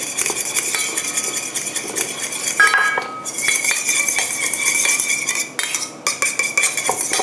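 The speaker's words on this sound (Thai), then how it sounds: "นี่แค่ผสมเข้าไปนะคะให้ทุกอย่างมันเข้ากัน" A utensil stirs and clinks rapidly against a bowl while salad dressing made with sesame dressing and Kikkoman soy sauce is mixed, a close, continuous metallic clatter with brief pauses and no talking.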